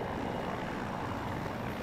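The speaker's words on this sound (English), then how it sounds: "Another attack helicopter." An attack helicopter in the video game Battlefield 2042, a steady broadband rotor and engine roar, faint and distant, with no speech.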